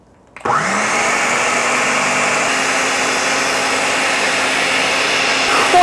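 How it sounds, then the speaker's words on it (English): A blender whirs through silken tofu for vegan zucchini bread, switching on after a brief quiet and holding a loud, steady, high motor drone to the end. "Turn it on and blend it for a minute to 2 minutes till it's nice and creamy"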